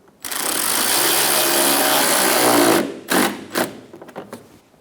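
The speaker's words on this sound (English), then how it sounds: "Install the corner screw for the bumper." A power tool drives the bumper corner screw on a 2012-2020 Chevrolet Sonic 1.8L during a radiator replacement, running as one loud steady whir for almost three seconds, then stopping and giving several short bursts.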